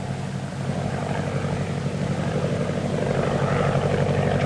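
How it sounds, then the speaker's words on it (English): A plane's propeller engine drones steadily overhead in a 1939 film, a dense, continuous roar that swells slightly louder as it nears, with no voices. "It's a plane, maybe from 3 Point."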